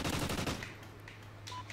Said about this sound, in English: I hear gunshots over here.